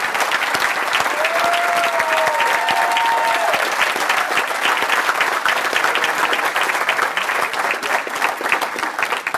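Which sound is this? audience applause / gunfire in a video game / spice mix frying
audience applause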